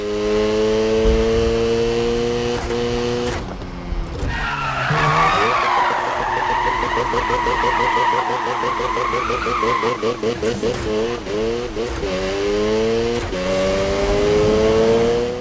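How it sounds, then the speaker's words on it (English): A Rocket Bunny Mazda RX-7 Spirit R drift build in Need for Speed 2015 howls through a drift: revving engine tones that rise and fall, with sustained loud tire squeal and skidding through the middle, close and continuous. "the RX-7 proving to be one of the best drift cars in the world"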